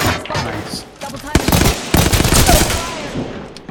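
Rapid automatic gunfire bursts loudly in the video game Apex Legends, dense crackling shots layered with game effects and occasional voices.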